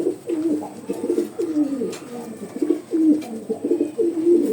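Pigeons coo steadily up close in soft, repeated throaty phrases, with faint background noise.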